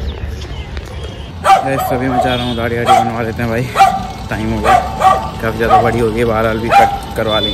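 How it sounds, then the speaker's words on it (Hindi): A dog barks repeatedly in short bursts outdoors at sunrise, fairly close and loud, mixed under someone talking steadily throughout. "क्या यार कुत्ता भौंक रहा है"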